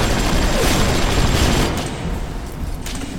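Rapid gunfire from a weapon loaded with armor-piercing rounds in the game Bioshock, a dense, loud, continuous burst of shots blurring into a rattling roar that eases slightly toward the end.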